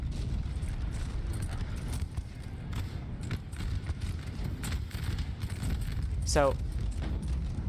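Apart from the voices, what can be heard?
horse artillery battery firing in Napoleon Total War video game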